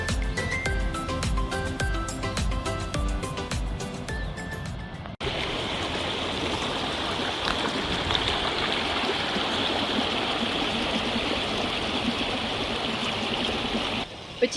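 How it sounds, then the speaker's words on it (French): Elliott River on Australia's Great Ocean Walk after a week of rain, heard as a constant close rushing flow. It follows a few seconds of tonal music that cuts off abruptly. "Traversée de rivière"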